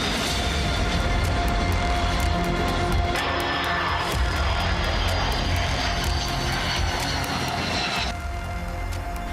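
Fighter jets at a military base in the Middle East produce a continuous, loud jet-engine roar that swells and holds steady for several seconds with no voices present.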